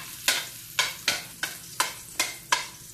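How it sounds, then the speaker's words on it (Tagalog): Garlic and onion sauté in a hot pan, a soft sizzle broken by about seven sharp, evenly spaced stirring scrapes, close and fairly quiet with no voices. "Kailangan mag-brown-brown muna yung bawang at saka yung ano,"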